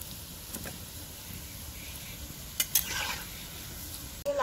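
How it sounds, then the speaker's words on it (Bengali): Bottle gourd gulguli fritters fry in hot oil and get turned over in the pan, producing a soft, continuous sizzle with a few brief scraping clinks from a slotted spoon, close by and quiet, with no speech. "এপিট ওপিট করে ভেজে নিতে হবে"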